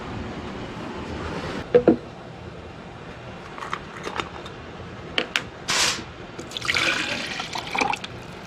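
Ice-cold water poured to refill a glass or bottle, close and fairly quiet, with gurgling splashes and short bursts of liquid, plus a few faint clinks and handling noises, and no voices.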